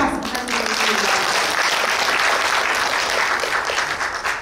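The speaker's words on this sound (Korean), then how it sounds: "박상선 회장님께 다시 한번 큰 박수 부탁드리겠습니다." A crowd at a regional private daycare association conference in Suncheon breaks into loud, sustained applause that holds steady for several seconds, with an announcer's voice audible at the start.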